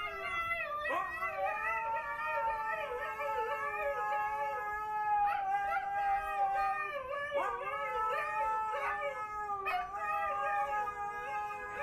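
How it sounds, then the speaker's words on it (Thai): Two Siberian huskies howl and sing together in long, wavering, pitch-sliding tones, with several swells and breaks across the passage, heard clearly without talk. "เป็นเสียงร้องเพลงจากสุนัขสองตัวนี้นะ"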